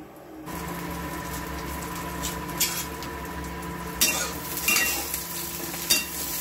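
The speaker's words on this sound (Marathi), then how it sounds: "मिरच्या आता अशा तेलामध्ये चांगल्या भाजून घ्यायच्या" Green chillies roast in hot oil in a pan for chutney, giving a steady close sizzle broken by sharp scrapes and clinks of a spoon stirring against the metal.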